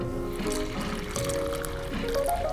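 Absolut Mandrin cocktail poured straight into a small toddy glass, a continuous close liquid stream with a rising fill tone and no talking.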